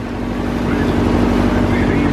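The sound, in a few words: motorboat engine running on the water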